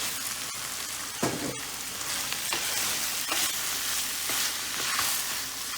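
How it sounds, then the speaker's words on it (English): Marinated lamb for a spicy Indian curry hits a hot pan and sizzles loudly, a dense steady frying hiss with scraping stirs and a few sharp clatters, close and unaccompanied by speech. "So I'm going to go ahead and add my marinated lamb."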